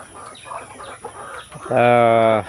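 Free-range backyard chickens pecking at feed, soft scattered clucks and rustling first, then a loud, close, drawn-out squawking call near the end, with a voice speaking briefly.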